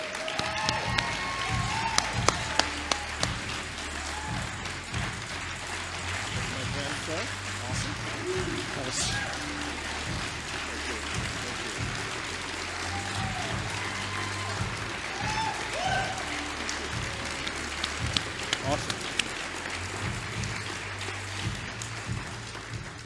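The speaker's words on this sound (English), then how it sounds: "I'd like for all of us to give a huge round of applause" An audience at a lifetime achievement award ceremony keeps up a long, steady round of applause, with low music or rumble underneath and scattered voices in the crowd.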